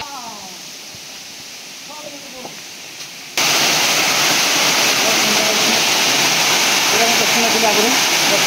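KBN waterfall thundering as broadband rushing water, quieter and distant at first, then suddenly loud and close after a few seconds; a voice speaks briefly under the roar.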